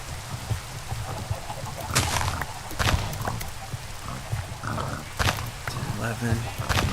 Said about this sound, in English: We need to thin out the chicken herd a little bit